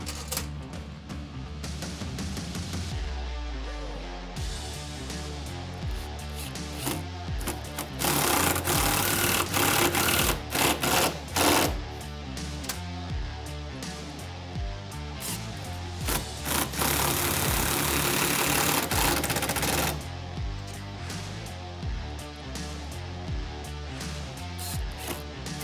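Drill boring a pilot hole into oak lipping while fitting intumescent hinge pads, a loud close buzzing whir that rises into a sustained high grind and then eases back, with no talk.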